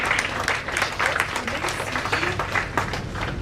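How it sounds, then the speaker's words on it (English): Dense audience applause fills a hall at a Women's Day celebration, honouring the first woman chairperson of an institute's regional council. Steady clapping throughout, with faint voices mixed in. "A big round of applause to her."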